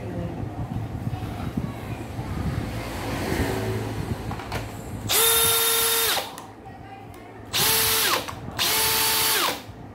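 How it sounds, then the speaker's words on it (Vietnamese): A Makita DF481 cordless drill whirs in three loud, close bursts of high-pitched spinning, each starting and stopping sharply, over a background of workshop noise. "Con này 2 chức năng, mạnh nhất dòng khoan Magita nha em."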